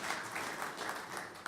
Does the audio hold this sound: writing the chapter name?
no